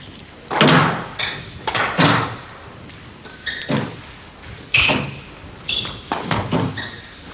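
A squash rally in a 1992 men's professional match, with the ball cracking sharply off rackets and court walls in an irregular series of hard, echoing thuds and slaps, heard alone without talk.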